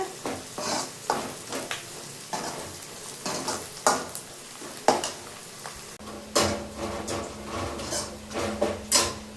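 Onions sautéing in a pan for a country chicken curry, with a soft sizzle under repeated scraping and clinking of a spoon against the metal pan, close by and with no talk.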